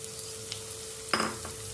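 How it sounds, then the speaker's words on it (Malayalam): Chopped onions with ginger, garlic, green chilli and curry leaves sizzle softly in a hot pan, with a brief clatter of a stirring utensil partway through and a faint steady hum underneath. "ഇതിലേക്ക് നമുക്ക് അരിഞ്ഞു വെച്ചിരിക്കുന്ന ഉള്ളി ഇട്ട് കൊടുക്കാം"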